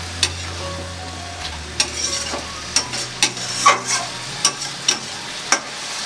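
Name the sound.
amudi fish cooking and sizzling in a pan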